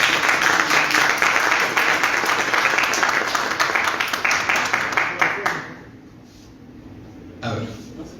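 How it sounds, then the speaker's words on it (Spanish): Audience applause at a round-table honors ceremony, loud and dense for about five seconds before fading out abruptly, followed by near silence and a brief voice or cough near the end. "Un fuerte aplauso para él."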